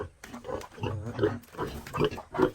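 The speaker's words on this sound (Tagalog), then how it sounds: "Yan yung mga baboy natin." Pigs on a small rural farm grunt and snuffle steadily up close, with a rhythmic series of low, rough grunts and squeals that rise and fall throughout.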